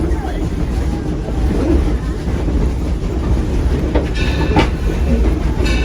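A passenger excursion train rolls along the rails near Torch Lake, its steady loud rumble and rhythmic clickety-clack of wheels on track joints filling the ride, with a brief brighter squeal or clatter near the end.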